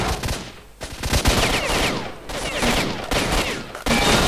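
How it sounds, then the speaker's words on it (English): Rapid bursts of gunfire in S.T.A.L.K.E.R.: Shadow of Chernobyl, loud sustained volleys with brief gaps, a firefight shooting through a wall, with no speech over it. "I'm shooting through the fucking wall."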